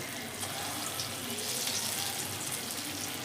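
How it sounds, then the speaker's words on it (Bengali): Urad dal and potato pakoras fry in very hot oil, a steady, close, broadband sizzle and crackle that holds evenly throughout with no voices. "আবারও ওই তেলেই আমি পকোড়াগুলো আবার ছোট ছোট করে দিয়ে দেব"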